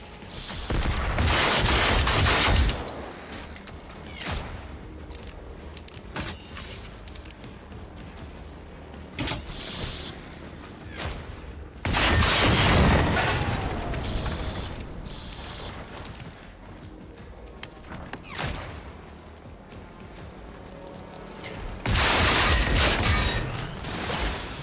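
Heavy bursts of automatic gunfire in Generation Zero come in several loud clusters separated by quieter stretches of scattered shots and mechanical clatter, close and intense.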